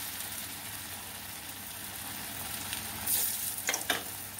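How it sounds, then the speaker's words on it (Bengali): Green jackfruit kofta balls frying in hot oil make a low steady sizzle, with a brief louder crackle and a few sharp spatters near the end as more go in. "এবার সবগুলো আমি ভেজে নেবো।"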